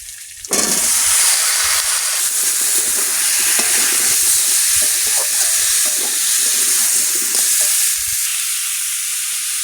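Pieces of ash gourd drop into a hot pan and set off a sudden loud, hissing sizzle that stays steady and close, with soft scraping and bubbling underneath. No voices.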